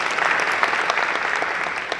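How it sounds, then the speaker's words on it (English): Steady audience applause fills a panel event on youth entrepreneurship as a person is welcomed, a dense, even wash of many hands clapping with no pause, fairly loud and close throughout. "Let's give Paul a round of applause."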